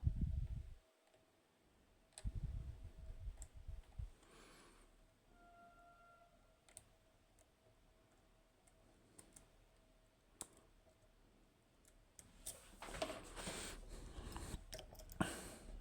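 Small, sharp clicks sound sparsely from the pins of a Keso 2000S lock as it is picked, spaced irregularly over a quiet background, with a faint steady tone and a cluster of handling noise near the end.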